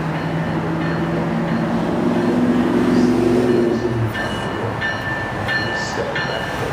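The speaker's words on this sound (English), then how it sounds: "Now arriving on track 1 is the New Jersey Transit 446 northbound train to Penn Station, New York" A New Jersey Transit northbound train pulls into Metropark station, its steady low rumble and rail noise rolling close by on a windy platform, then easing off as faint higher tones and announcements ring out behind.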